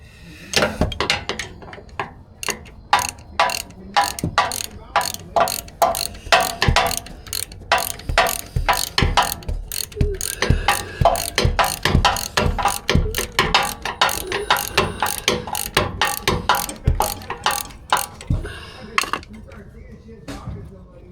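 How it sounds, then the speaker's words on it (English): Rapid, repeated metallic clicking of a ratchet wrench working a brake line fitting on a seized disc brake caliper of a boat trailer, sharp clicks in bursts at close range for about twenty seconds. "I'm actually going to have to undo this brake line so that I can get the caliper off all the way"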